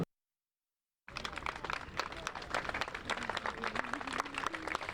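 A round of applause breaks out after a second of silence as Harley Dole leaves the building, clapped out by members of Curious Joel; dense, steady clapping with a faint voice-like tone running beneath.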